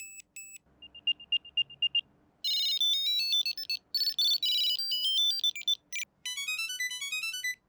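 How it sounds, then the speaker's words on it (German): Four Bluetooth tracker tags beep one after another, each giving its own bright, high-pitched chirping pattern, with short silent gaps between them. "haben wir die 4 Tags mal nacheinander piepsen lassen"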